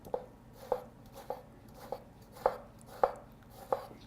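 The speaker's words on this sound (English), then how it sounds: "I'll cut the other tomato." A sharp knife cuts through a tomato on a board for bruschetta, making seven soft, evenly spaced taps against the board at roughly half-second intervals, close and quiet with no talking.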